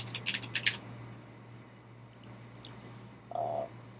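Computer mouse clicking in a software catalog interface: a few quick, sharp, faint clicks in small clusters over a low steady hum in a quiet room, with a brief short tone near the end.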